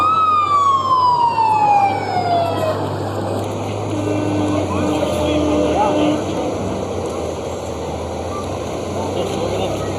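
Fire department tanker truck in a town centennial parade, its wailing siren sweeping down loudly and then fading amid crowd noise and outdoor bustle.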